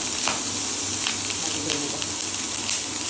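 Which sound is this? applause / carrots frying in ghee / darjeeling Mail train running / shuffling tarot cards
carrots frying in ghee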